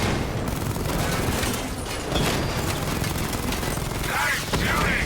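Dense, continuous gunfire and explosions from the Batman Arkham Knight video game, rapid overlapping shots and booms filling the whole stretch loudly, with a sweeping whoosh near the end.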